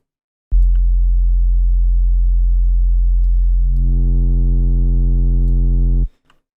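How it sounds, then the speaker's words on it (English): A steady low sine tone hums alone, then partway through picks up a faint buzzy edge of added harmonics from subtle tape saturation in FabFilter Saturn 2 before cutting off abruptly. "So that's the sound of the warm tape, subtle tape."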